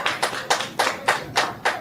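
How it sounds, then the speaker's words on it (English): Applause from a capacity crowd at a UPSL Premier Division soccer semifinal at Mission Bay High School, marking a player's substitution, sounding as six evenly spaced bursts of clapping with no talk. "as an ovation from the crowd."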